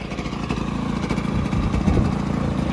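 A hovercraft engine on water, with blades being angled to reach its power band, runs loud and steady, a continuous buzzing drone that swells slightly toward the end.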